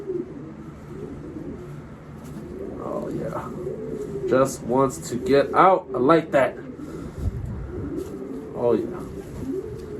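Racing pigeons held in a loft give a run of soft, close throaty coos in the middle, with someone talking quietly before and after.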